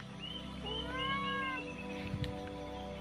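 A stray cat at a fishing spot meows a few times in drawn-out, rising and falling calls, close and clear over a steady low background hum, with a couple of faint knocks afterward.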